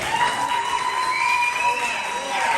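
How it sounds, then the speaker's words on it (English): At a comedy show, a crowd breaks into applause and cheering, a sustained wash of clapping and shouts mixed with voices for a couple of seconds. "Oh, that's a good round of applause."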